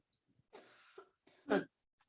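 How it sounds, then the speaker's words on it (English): A few muffled, raspy coughs close up, ending in one louder harsh cough, with quiet breaths between them. "I'm getting a fit of coughing right now"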